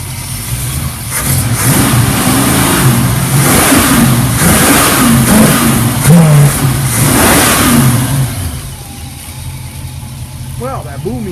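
A 1967 Ford engine runs rough after a cold start, its loud steady idle broken by intermittent skips and uneven pulses, then the engine note drops away near the end.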